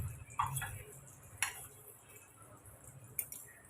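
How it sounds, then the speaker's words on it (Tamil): Mustard and fenugreek seeds splutter in hot oil in a pan, giving a few faint, sharp scattered pops and crackles over a quiet low hum. "கடுகு வெந்தயம் பொரிஞ்சிச்சு"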